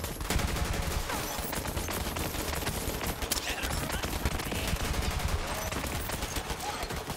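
Rapid, dense gunfire from a first-person shooter video game runs almost nonstop, loud and crackling, with a voice talking faintly underneath.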